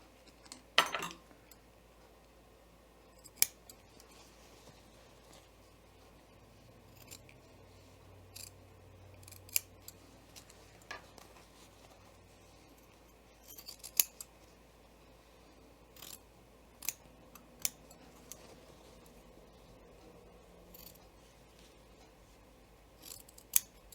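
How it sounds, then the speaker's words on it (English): Scissors snip the welt pocket opening through fabric, a series of faint, sharp, separate cuts spaced out over quiet room tone. "I'll just lift up that seam allowance right there and cut just the pocket opening."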